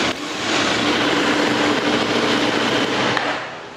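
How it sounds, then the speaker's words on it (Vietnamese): A KTM Duke 790 motorcycle engine runs loudly with its exhaust covered by hand, a steady, broad, roaring drone that holds even for several seconds, close and without talk. "Các bạn để ý là tay mình đang bịt bô nhá, nhưng mà máy nó kêu to này rồi."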